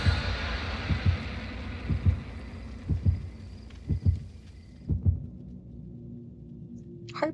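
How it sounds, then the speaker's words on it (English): Steady thumping heartbeat in Dead by Daylight, a low doubled pulse roughly once per second, loud and close, fading out near the end alone. "Listen to the heartbeat."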